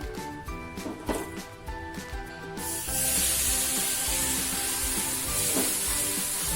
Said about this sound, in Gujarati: હવે આપણે જે દૂધ લીધેલું છે તે નાખી દેશું